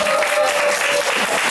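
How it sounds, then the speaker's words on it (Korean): Audience applause at a Korean education book talk concert, welcoming four teachers onto the stage: a dense, steady wash of clapping at close range that runs without talk and breaks off at the end. "박설예 선생님을 큰 박수로 모시겠습니다."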